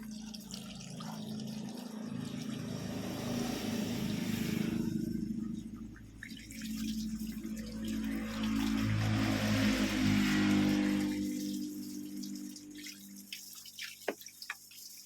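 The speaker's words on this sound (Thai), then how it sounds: "น้ำประปา เติมน้ำมาต่อเลยครับ น้ำประปาครับ" Tap water is poured into an engine's cooling system to flush out oil, making a continuous trickling, gurgling stream that swells and fades, close and moderately loud, ending with a few scattered drips.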